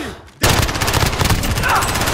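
Automatic gunfire in Call of Duty Warzone, dense rapid bursts starting abruptly after a brief quiet moment and continuing loud and close.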